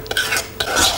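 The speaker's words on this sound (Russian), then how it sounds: "Перемешиваем." A spoon stirs sugar, sour cream and milk in a small saucepan, a close, soft scraping swish with two quick strokes, no talk.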